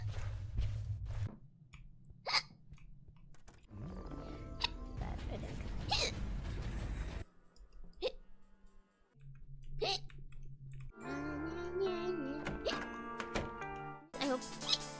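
A clown-character streamer hiccups several times, the sharp, sudden catches separated by stretches of clicking, shuffling and background noise close to the mic.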